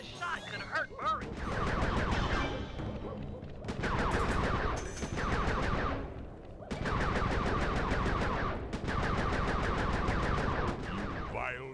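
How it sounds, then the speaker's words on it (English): Fireworks fired in the video game Sly 3 burst in loud, dense crackling volleys like rapid gunfire, with a short gap between each barrage. "Careful with those fireworks, Panda King!"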